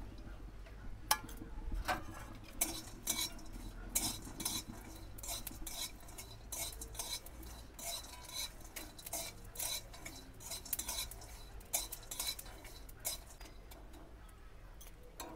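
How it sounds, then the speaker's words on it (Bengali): Whole cloves, cardamom, cinnamon, black cumin and cumin seeds dry-roasting in a hot kadai, stirred with a utensil that scrapes and clinks against the metal in an irregular, steady rhythm, close and moderately loud, with no talking. "লবঙ্গ, এলাচ, দারচিনি, শাহজিরে আর সাদা জিরে এগুলো সব একসঙ্গে আমি ভেজে নেব"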